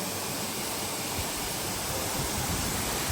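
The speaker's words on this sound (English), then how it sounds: "Do you like the waterfall?" Waterfall at Uzungöl near Trabzon, a steady broadband rush of falling water heard close and continuous, with no voices over it.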